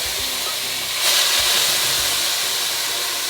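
Celery and other vegetables sizzle in a pan for a tomato sauce to go with turkey meatballs, a steady close hiss that swells briefly after about a second, with no talk.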